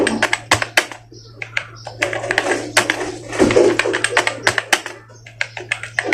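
Rapid, uneven keystrokes on a computer keyboard as Hindi is typed in the Inscript layout, close and crisp clicks in bursts with a steady low hum underneath.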